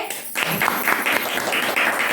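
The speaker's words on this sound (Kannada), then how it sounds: "ಚಪ್ಪಾಳೆ" Audience applause at a devotional song quiz show, a steady burst of clapping from a group that starts abruptly and continues at moderate loudness.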